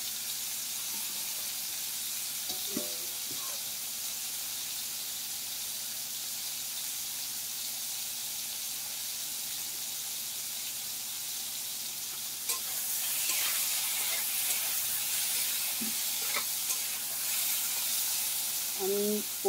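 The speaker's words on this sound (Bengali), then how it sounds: "তাই আমি আজকে তার কথা শুনে আজকে আমি ঝিঙে ভাজা করছি।" Sliced ridge gourd fries in a pan with a steady, even sizzle that stays constant throughout and grows a little brighter and louder partway through, with a few faint clinks of utensils and no talking.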